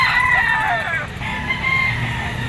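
A rooster crows at a Lipa chicken auction market, its long, bright calls rising and falling near and loud over crowd chatter and the murmur of people talking.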